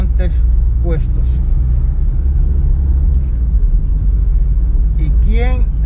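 Steady low engine rumble and road noise inside a moving car, continuous throughout, with someone speaking Spanish over it.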